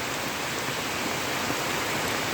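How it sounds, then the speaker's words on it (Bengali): Steady, dense rain pours down in Habiganj after an intense heatwave, a continuous close hiss with no pauses and no talking. "এখানে দেখতে পাচ্ছেন বৃষ্টি হচ্ছে"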